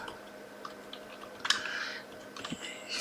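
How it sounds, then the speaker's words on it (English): Soft, scattered key clicks from typing on a computer keyboard in a quiet room, faint and irregular, with a slightly louder cluster of taps midway. "So I'm just going to type to her."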